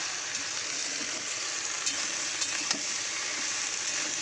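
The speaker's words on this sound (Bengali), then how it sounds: "ঢ্যাঁড়সগুলো একটু তেলের সঙ্গে আলু ফোড়নের সঙ্গে একটু ভালো করে একটু কড়াই নাড়িয়ে নেব" Okra frying with potatoes and tempering spices in oil in a wok sizzles steadily as it is stirred, with a few louder scrapes and spatters breaking the constant hiss.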